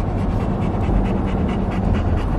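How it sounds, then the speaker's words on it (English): Two hot dogs panting hard and steady during a truck ride, a close, continuous rhythmic huffing that fills the whole short stretch with no talk over it. "The dogs love truck rides. They just like to pant a lot though."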